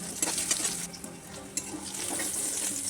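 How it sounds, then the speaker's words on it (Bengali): Eggplant pieces fry in hot oil for a Bengali hilsa and eggplant curry, giving a steady, close crackling sizzle with occasional stirring clicks throughout. "বেগুনগুলো অল্প একটু ভেজে নেব, খুব বেশি ভাজবো না।"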